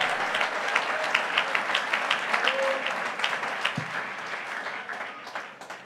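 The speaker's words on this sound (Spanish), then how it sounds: "Dele palmas al Señor Jesucristo" Church congregation clapping in praise during a Spanish-language service, a sustained dense round of applause from many hands at a steady level for about six seconds before beginning to fade.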